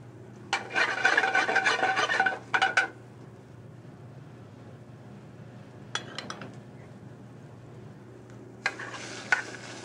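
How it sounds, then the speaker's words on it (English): Shallots soften in butter in a pan in a restaurant kitchen, bursts of sizzling and stirring scrapes coming in short spells with quiet gaps between, close and moderately loud. "Shallots are softened in butter."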